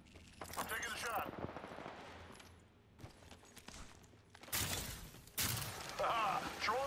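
Bursts of rapid gunfire from the player's weapon in a video game, loud stuttering volleys separated by quieter gaps, with game sounds and voices around them.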